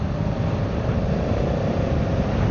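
A 2025 Yamaha MT-07 with Y-AMT automated transmission in sport mode, fifth gear, its engine droning steadily and loudly with a continuous rumbling roar and wind noise, no talking.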